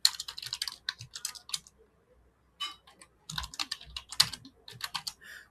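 Quick bursts of key presses on a computer keyboard as a terminal command is entered, soft and close, with a brief pause before more clicking resumes and no voices.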